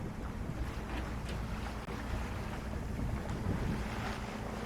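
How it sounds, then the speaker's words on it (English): A sailboat under way on the open ocean off San Diego: a constant roar of wind buffeting the microphone over rushing, sloshing waves against the hull, steady throughout with no voices. "a few hours of sailing here to that island up ahead"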